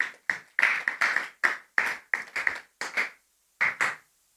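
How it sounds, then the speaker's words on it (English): Scattered handclaps from a small audience at a Srimad Bhagavatam class, about a dozen short, uneven bursts close by, separated by brief silences, with no talking. "It's something worth applauding."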